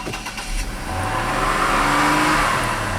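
A Chevy Equinox with a stall-under-load fault revs up under heavy throttle, the engine note rising from a low idle into a sustained, climbing drone heard up close.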